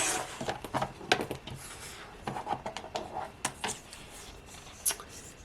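Scissors snip through large fur bond interfacing in a string of short, crisp cuts close by, with brief pauses between them.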